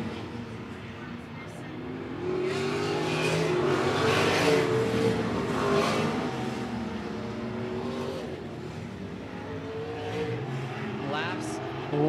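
Sprint cars racing at I-76 Speedway, a loud, constant engine roar with rising and falling revs as cars circle the track, under continuous commentary from an announcer.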